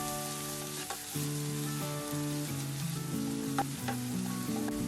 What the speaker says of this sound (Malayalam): ഇത്രയും ചേർത്ത് ആ മസാലയുടെയൊക്കെ റോ ഫ്ലേവർ ഒന്ന് പോകുന്നത് വരെ ഏകദേശം 1 മിനിറ്റ് നേരം ഇളക്കുക